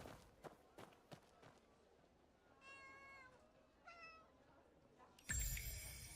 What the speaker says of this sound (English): there's a meow, meow, meow, meow, meow, meow I keep hearing